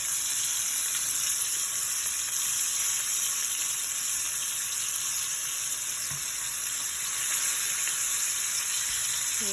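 Stuffed potatoes filled with coriander sizzling in a hot pan for dum aloo, a steady loud hiss of frying oil that carries on without a break and with no voices.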